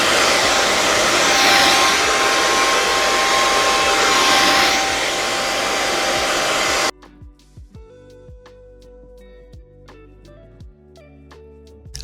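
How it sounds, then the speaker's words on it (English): A hair dryer roars loudly for several seconds while drying a quick weave, then cuts off, leaving quieter clicks and faint handling sounds. "go in with my blow dryer and I'm just going to just dry this"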